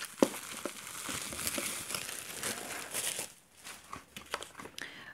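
Packaging crinkles and rustles as it is torn open around a wooden board toy, with dense crackling for three seconds, then sparser crisp handling ticks and rustles close by.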